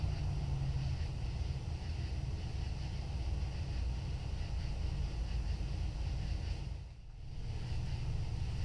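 Continuous low traffic rumble fills the air, a steady wash of passing vehicles with a brief dip near the end before the noise resumes.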